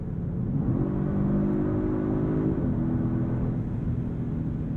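A 2022 Genesis G70 3.3T V6 Sport RWD in Sport Plus mode accelerating hard, its engine note climbing steadily in pitch, then dropping at a gear change from the 8-speed transmission, loud and steady with no talking.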